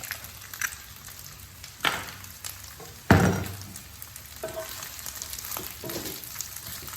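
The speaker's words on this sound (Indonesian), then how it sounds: "Kita aduk-aduk ya. Biar dia tercampur rata." Fried rice with eggs being stirred in a pan, soft sizzling with scattered scrapes and one loud thump of the utensil against the pan partway through, close and without speech.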